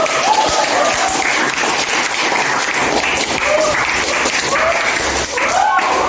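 A classroom of students applauds a classmate, steady sustained clapping from many hands filling the room at close range with no talk.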